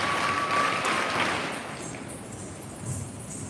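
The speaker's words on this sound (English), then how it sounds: "Dear children, once again a big round of applause." A school audience gives a round of applause after a children's performance at an investiture ceremony, the clapping moderate and fading toward the end, with no one speaking over it.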